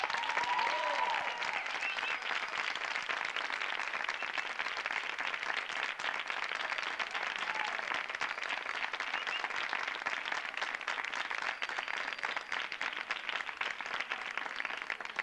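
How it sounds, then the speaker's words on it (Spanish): Studio audience applause for Brian May on a Spanish television show, a long, dense, even roar of many people clapping that holds at a steady level throughout. "Fuerte el aplauso para nuestro amigo Brian May."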